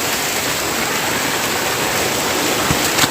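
Steady broadband rush of mountain water flowing at about 15,210 ft altitude, continuous and fairly loud throughout, with no voices.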